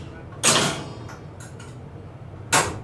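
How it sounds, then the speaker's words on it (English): Century-old clock mechanism inside the tower of Toronto Old City Hall gives two loud mechanical clunks about two seconds apart, with faint ticks and creaks between them in a quiet room. "We were also given access to the tower's impressive clock mechanism,"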